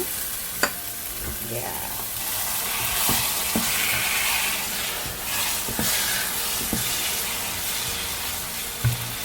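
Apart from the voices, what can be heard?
prawn stock being added to a sizzling pan for biryani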